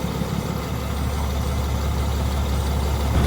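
A 2020 Ram 3500 with a 6.7 Cummins diesel and 364k miles idles on a cold start with a bad lifter, a steady low rumbling drone with constant loudness and no talk.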